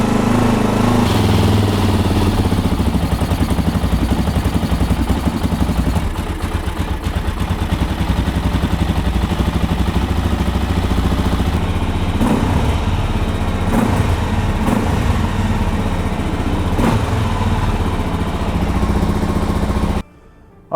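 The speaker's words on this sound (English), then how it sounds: "the DRZ woke right up, which is awesome. It was running strong, perhaps overly so." A Suzuki DRZ400 motorcycle engine, freshly rejetted at the carburetor, runs loud and close with a steady, strong idle and a few sharp revs near the end before it cuts off abruptly.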